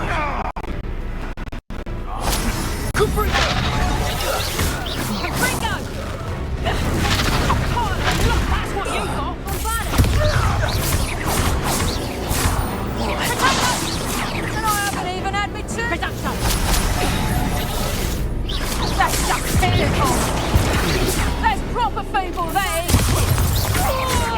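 Incendio fire spell combat in Hogwarts Legacy: repeated whooshing casts, crashes and thuds over busy battle noise and music. Voices talk at points throughout.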